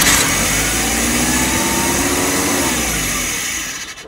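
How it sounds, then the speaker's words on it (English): A 1986 Chevy S10 Blazer engine with a runaway idle fault runs loud and close, a steady rough drone that holds high before easing off near the end. "It ran like crap, but it's sort of idle. Then it raced again."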